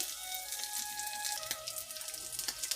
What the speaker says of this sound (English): You put the onions in there first because your onions need to caramelize and cook first